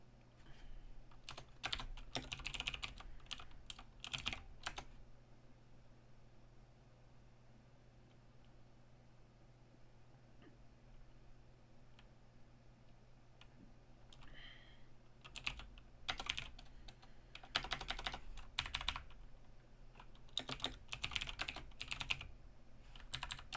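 Faint, close keystroke clatter from a computer keyboard, arriving in several quick bursts with quieter gaps between them over a low steady hum.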